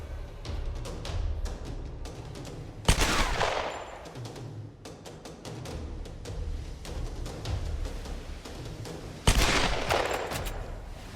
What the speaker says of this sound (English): Sounds like they got guns.